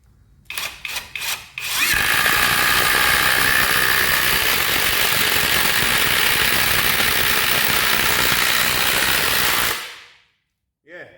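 An Ozito 18V brushless impact driver sinks a long screw into wood, with a few short trigger taps, then a loud, steady hammering whine that runs for about eight seconds before winding down, close up and alone.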